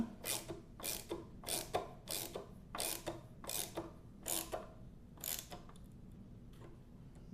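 Screws being tightened on a Bigsby B7 vibrato mounted on a 1964 reissue Gibson ES 335, a series of about nine short scraping ratchet-like bursts in an uneven rhythm, close and quiet, with a faint low hum behind.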